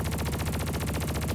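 Rapid submachine gun fire from Half-Life, a steady fast stream of evenly spaced shots, loud and close, with no voices.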